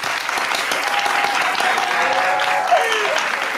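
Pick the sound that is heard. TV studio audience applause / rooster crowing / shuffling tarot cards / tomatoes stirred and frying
TV studio audience applause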